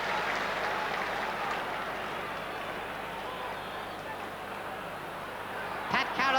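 A big stadium crowd at the 1984 All-Ireland hurling final between Cork and Offaly applauds as a player leaves the field, a broad, steady wash of distant clapping and crowd noise with commentary over it.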